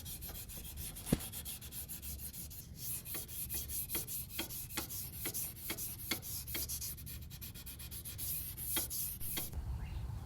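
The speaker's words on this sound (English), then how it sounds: "when sanding the handle" Rhythmic rasping strokes of sandpaper on a wooden knife handle repeat steadily and close up, speeding into quick, regular scrubbing before stopping abruptly.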